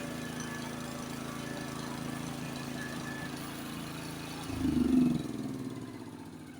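Honda snowblower engine running steadily while the machine is driven, a faint mid-pitched motor hum that swells briefly louder near the end before settling back.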